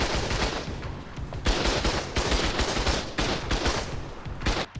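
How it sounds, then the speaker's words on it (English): Cannon fire shelling the inside of a base in Ark Survival Ascended, a rapid barrage of booming shots and impacts overlapping in dense bursts, loud and sustained without talk. "he was shelling the actual inside of their base via a cannon"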